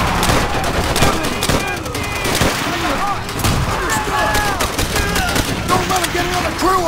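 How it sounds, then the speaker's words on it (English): Sustained gunfire from Call of Duty: World at War keeps up through a wall in dense, overlapping bursts, with shouting voices mixed in over the battle. "Shoot through the damn wall!"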